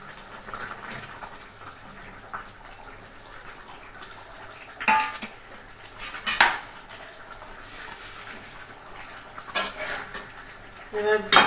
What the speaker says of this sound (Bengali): এবার আলুগুলো আস্তে আস্তে দিয়ে দেবো।